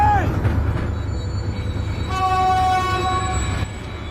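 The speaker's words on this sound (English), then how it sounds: "A train was coming behind." A train rolls along railway tracks with a loud, steady rumble, a sustained horn-like tone sounding midway and squealing wheel tones, close and dominant throughout.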